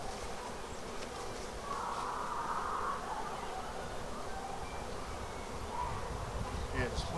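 A swarm of around 10,000 bees buzzes continuously, a dense, droning hum close by with occasional individual insects passing louder.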